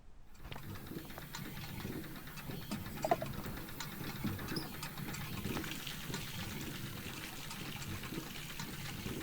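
Water fills a bath in the game Botany Manor with a soft, continuous trickle and splash, while birds coo and chirp faintly in the background.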